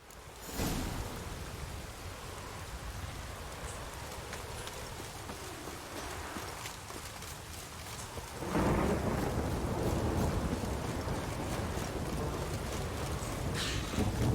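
Steady rain and a thunderstorm in a video game, with a sharp thunder crack early on and a heavier rumbling surge of rain and thunder from midway, continuing loud to the end without speech.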